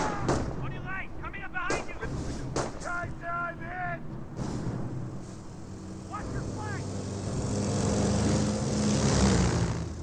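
A sniper rifle shot rings out in Company of Heroes 1, amid a busy World War II battle soundscape of distant gunfire and artillery, with engine rumble swelling toward the end and a commentator talking over it.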